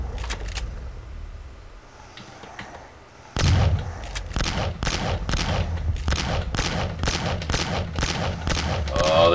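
Shotgun blasts in the Boxhead 2Play video game, a loud explosion of a red barrel followed by a steady rhythm of repeated shots, with faint gameplay noise before the first heavy boom.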